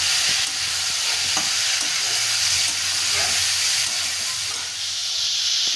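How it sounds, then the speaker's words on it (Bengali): Fried cauliflower stirred into potatoes in a hot pan: a loud, continuous sizzling hiss with scattered spoon clicks and scrapes, close up, with no talking. "ভেজে রাখা ফুলকপিগুলো দিয়ে দেবো এবার খুব ভালো করে এটাকে আমি নাড়াচাড়া করে"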